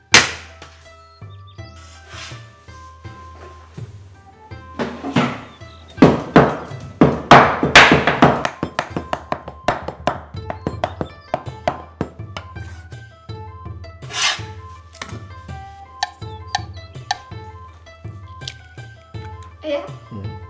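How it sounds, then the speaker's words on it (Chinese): Raw shrimp being smashed into paste with the flat of a cleaver on a wooden board: a long run of sharp, uneven thwacks and scraping rubs, close and loud, with a voice talking in between. "虾仁不要剁，要这样拍成泥再剁"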